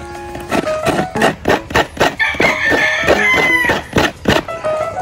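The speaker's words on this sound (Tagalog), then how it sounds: "biglang nagkapikunan yung manok." Two native chickens fight up close, with rapid bursts of flapping and scuffling in an irregular rhythm and squawking cries in the middle, loud and with no talk.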